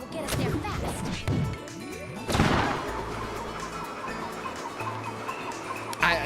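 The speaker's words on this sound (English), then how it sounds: "I just smashed through the floor." Donkey Kong smashing through the floor in the video game DK Bananza, with heavy crashing impacts and thwacks, a big crunching smash midway and another sharp hit at the end, mixed with game sound effects.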